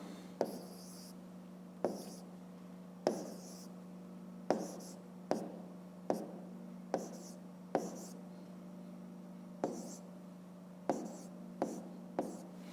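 A pen or chalk writes a math answer in a fifth-grade lesson, a series of short, sharp scratching strokes recurring about every second, close and fairly quiet over a steady low hum.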